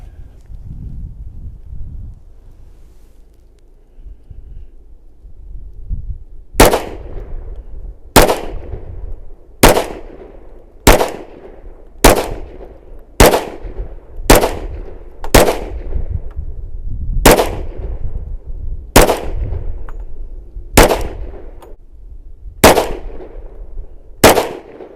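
Sharp single gunshots from a SIG Sauer P320 XTEN 10mm pistol ring out outdoors with wind, about a dozen loud reports spaced one to two seconds apart after several seconds of quiet rustling.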